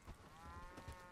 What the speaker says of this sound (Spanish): Esto que es una puta vaca.